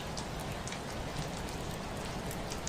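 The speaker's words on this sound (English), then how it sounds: "the rain is falling outside" Steady rain falls outside a Victorian tea room on a narrow street in an old Scottish town, a dense, even hiss of drops pattering on surfaces with no pauses, moderately close and unbroken throughout.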